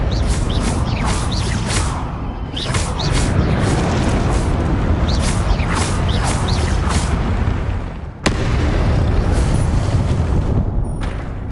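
Spells are cast in Hogwarts Legacy, and the blasts and whooshes come one after another in a loud, continuous barrage of booming bursts. There is a brief drop near the end before the barrage resumes.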